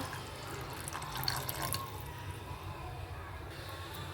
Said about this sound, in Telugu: అలాగే కొద్దిగా వాటర్ కూడా వేస్తున్నానండి